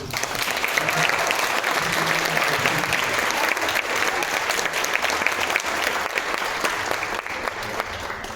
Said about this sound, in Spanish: Den un aplauso ya por eso.